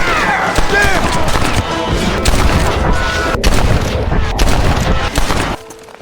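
Gunfire in the Red Dead Redemption video game: a dense, loud barrage of overlapping shots and booming reports over several seconds, with game voices and music mixed in, ending abruptly.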